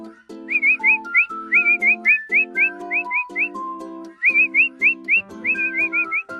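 A person whistles a bright, repeated melodic phrase, short trilling bursts in quick rhythmic groups, clear and close with no talking.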